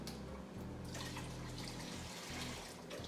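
Beef broth poured into a soup pot of onions, wine, thyme and rosemary, a steady close liquid splash and trickle running throughout.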